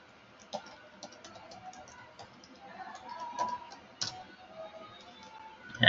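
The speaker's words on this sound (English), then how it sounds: "I'm typing some news website" Typing on a computer keyboard produces irregular light key clicks, close and moderately quiet, with a louder clatter at the very end.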